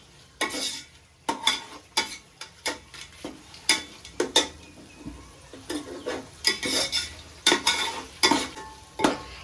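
A spoon stirs mint and coriander leaves into frying onions in a pan for vegetable biryani, making a rhythmic series of close scrapes and clinks over a soft sizzle, with no talking.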